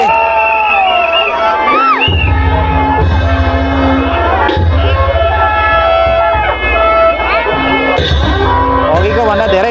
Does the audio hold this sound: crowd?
yes